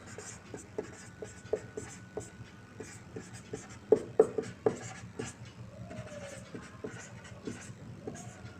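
A pen or marker drawing a line on a triangle diagram in a class 9 geometry lesson, soft repeated scratchy strokes close by, a few sharper ones midway, with no talking.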